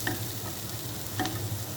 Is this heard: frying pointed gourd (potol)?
yes